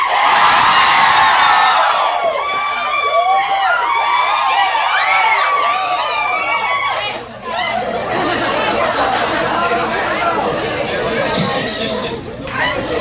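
An audience at a book-tour event in Fortaleza shouts a loud crowd chant, many voices yelling and whooping together in a sustained, excited roar that lasts several seconds.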